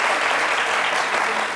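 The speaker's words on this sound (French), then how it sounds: "On applaudit" Loud, dense audience applause from a crowd at a live talk-show taping, a full, even roar of clapping that holds steady throughout the short stretch.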